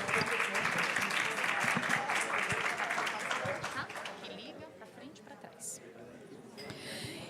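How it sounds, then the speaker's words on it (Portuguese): Audience applause at a sanitation sector standards panel, a dense clapping roar that fills the first half under overlapping talk, then thins and fades away as speech continues over quieter scattered claps. "Podem bater palmas para ele"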